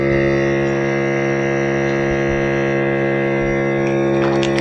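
An Allkeys vacuum sealer pumps air out of a bag: a steady, loud droning motor hum with a buzzing tone holds unbroken throughout, with no talking.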